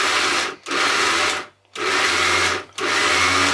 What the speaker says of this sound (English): you drop the top on and you just grind